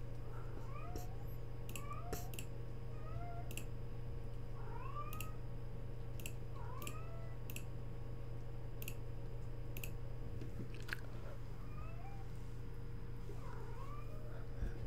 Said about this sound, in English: If you heard the cat sound, that is my cat.